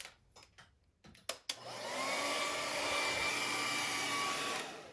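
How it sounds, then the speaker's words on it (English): A hair dryer blows steadily on a watercolor autumn lake painting, starting after a few brief knocks and running loud and continuous for about three seconds before switching off. "I'm gonna hair dry it a little bit."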